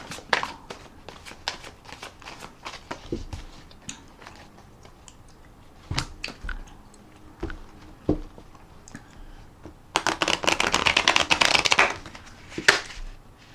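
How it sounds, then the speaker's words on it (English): Scattered taps and clicks of card handling, then a dense fluttering burst of rapid card clicks as a deck is riffle shuffled, close and fairly loud. "we're just going to put another rifle and shuffle on the deck"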